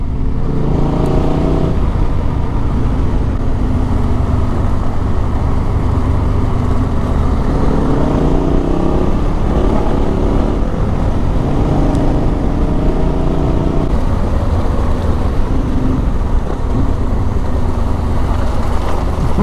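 Yamaha Ténéré 700 adventure motorcycle ridden along a trail in northern New South Wales, its engine droning steadily and loud throughout, with rising and falling revs as the rider works through the terrain, mixed with wind rumble.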